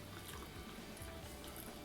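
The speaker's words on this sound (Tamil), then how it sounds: "இப்போ வந்து நம்மளுக்கு தேவையான அளவு தண்ணி சேர்த்துடலாம்." Water poured into a mixer jar holding cut apple pieces for a skin juice, a steady soft trickle and splash running throughout at low level.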